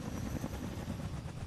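Helicopter flying in the video game Fortnite, a steady, dense rotor and engine drone that stays loud and even throughout, with no talking.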